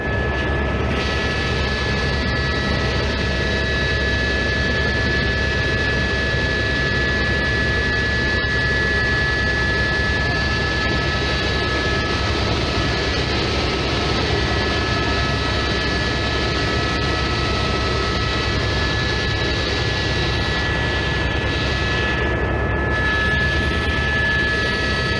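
Steady loud engine and rotor drone inside a Tropic Air helicopter in flight, a continuous roar with faint high whine tones running unbroken throughout.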